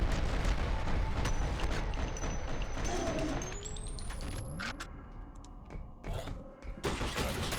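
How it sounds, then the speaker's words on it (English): A grenade explosion in the video game F.E.A.R. Perseus Mandate: heavy, loud broadband blasts and rumble give way to a high rising ringing tone as the noise fades, then more thuds. "Look out, grenade!"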